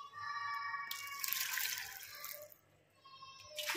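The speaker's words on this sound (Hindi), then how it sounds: "अब हम इसमें शामिल करेंगे पानी।" Water poured into a pot of masoor lentils, a steady splashing pour lasting about two seconds, then quieter, then starting again at the end, close and alone with no talk.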